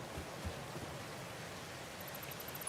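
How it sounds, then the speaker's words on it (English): Soft, steady rain hisses evenly in the factory-building video game Satisfactory, faint and continuous with no voices over it. "I love the rain sounds."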